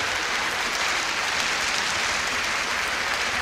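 Applause from a concert-hall audience joined by the players of the Boston Symphony Orchestra after Rachmaninoff's Symphony No. 2, a dense, steady roar of clapping that stays loud and even throughout.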